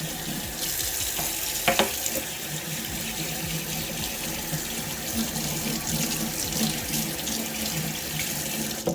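Tap water runs continuously into a sink while makeup brushes are rinsed, a steady close splashing rush with a few brief handling knocks.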